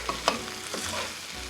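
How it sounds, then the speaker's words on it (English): Chorizo and meat frying in a pan for cowboy beans, a steady close sizzle with a couple of scraping stirs near the start, no voices. "And you mix the chorizo."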